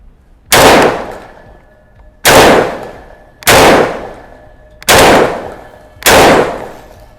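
Khan Arms MLT 12 shotgun fires five loud, close shots, evenly spaced about a second and a half apart, each a sharp blast with a short decaying tail and no talk.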